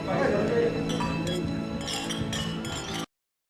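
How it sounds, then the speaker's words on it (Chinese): Glasses clink together in a toast at a banquet among friends, bright overlapping chimes ringing out over a murmur of voices and festive chatter, then cutting off abruptly. "来，干杯！"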